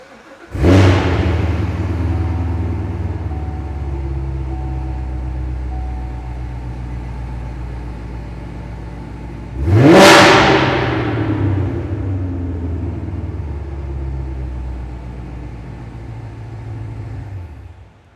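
A 2017 Chevrolet Corvette Z06 engine revs sharply twice with the microphone held close, each loud blip rising fast and settling into a deep, steady idle rumble between them.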